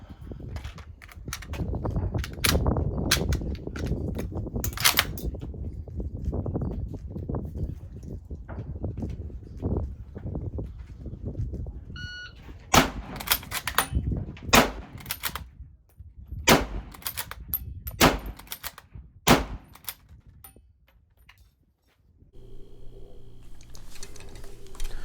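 A rapid string of sharp, loud reports from an M38 bolt-action rifle being cycled and fired quickly, the shots spaced roughly a second apart after a stretch of heavier rumbling noise.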